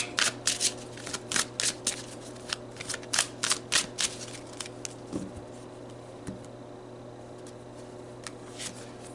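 Tarot cards riffled and shuffled in a quick burst of crisp flapping strokes, then a quieter stretch with a card slid out and a few soft taps.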